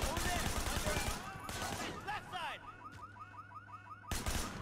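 Gunfire crackles through a shootout in the Sleeping Dogs video game, a dense burst of shots up front, then sparse pops under chirping synthetic tones before a final loud blast; a voice talks briefly.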